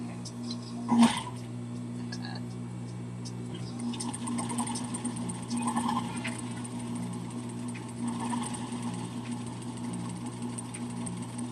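Sewing machine top stitching a Tabitha docker hat, a steady low mechanical hum running throughout at moderate level, with a brief sharp knock near the start and faint background voices.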